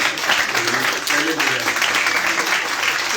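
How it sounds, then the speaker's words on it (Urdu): Audience applause fills a lecture hall at the close of a law lecture, a steady broadband patter of many hands clapping at once, close and continuous with a murmur of voices beneath. "تالیاں بج رہی تھیں"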